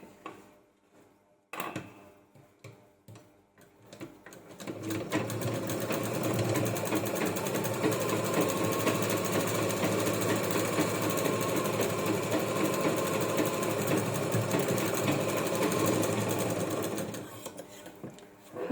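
Sewing machine stitching a bag made from a saree blouse piece. A few clicks and brief handling sounds come first, then the motor whirs in one steady, close, continuous run before stopping, with a voice talking at times.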